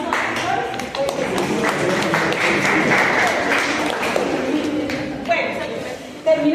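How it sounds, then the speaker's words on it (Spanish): An audience applauds doctors with scattered clapping, loud at first and thinning out toward the end, with some chatter mixed in. "les doy un aplauso a los doctores"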